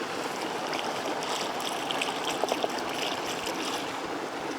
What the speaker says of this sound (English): we're gonna put some cold water in there, cool it down a bit.